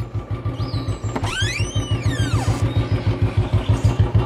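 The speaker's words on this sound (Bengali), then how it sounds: "বাইকের আওয়াজ ভেসে আসছে" A Royal Enfield motorcycle engine thumps in a steady, even idle rhythm, with a brief rising-and-falling whine passing over it.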